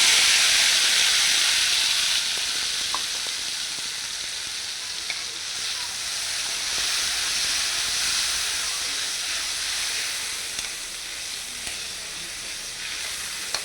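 Ground spice paste for patt vadi hits a hot pan and sizzles loudly and steadily, a dense continuous frying hiss with no talk.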